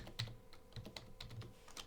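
Keys click on a computer keyboard as a git log command is typed, with irregular, fairly quiet keystrokes and no talking.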